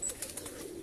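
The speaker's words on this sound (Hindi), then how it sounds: "ये मेन कबूतर है हमारा" Breeder pigeons on a rooftop in Sheikhupura, a brief soft cooing with faint wing flaps close by, no talking.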